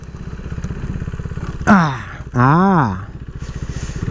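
A KTM RC390 motorcycle brakes from 50 kph. Its engine pulses steadily up close, then gives two sharp rising-and-falling rev blips in quick succession before it settles back to a low, throbbing idle.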